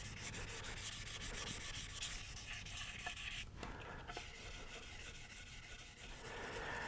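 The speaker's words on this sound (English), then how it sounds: "I'm just going to take some 1500 grit sandpaper and I'm just going to begin lightly sanding them" Light wet sanding of a multi-scale six-string guitar's clear coat with 1500 grit sandpaper, a steady close-up rubbing and scratching that continues evenly throughout with no speech.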